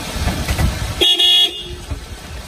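A loud, close car horn sounds one sustained honk of about half a second over background traffic noise.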